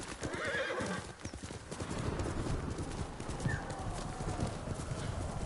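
Horse hooves clip-clop in steady rhythm in Ghost of Tsushima, mixed with a whinny and ambient game sounds, at moderate loudness, without speech.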